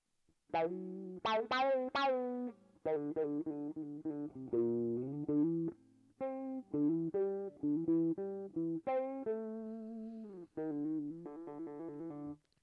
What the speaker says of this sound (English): The T-wah.